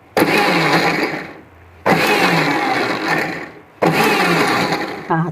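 A mixer grinder grinding wood apple chutney with coriander whirs loudly in three short bursts of about two seconds each, separated by brief quiet gaps.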